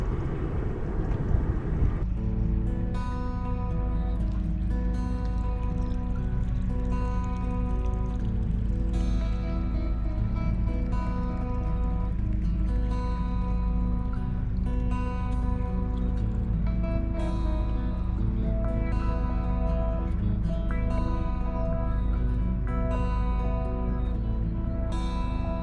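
A boat leaving its mooring above Hayward Lock makes a steady, droning engine hum that starts after a brief rough noise at the beginning and then holds evenly throughout, with no talking.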